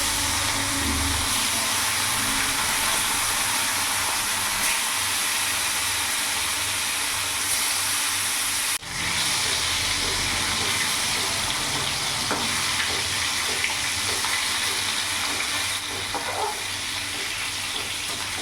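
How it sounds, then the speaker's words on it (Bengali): Pieces of rohu fish fry in hot mustard oil, giving a loud, constant crackling sizzle close up, with a brief jolt midway as more fish goes in. "তেল গরম হয়ে গেছে, এবার এক এক করে মাছগুলো আমি ছেড়ে দেবো।"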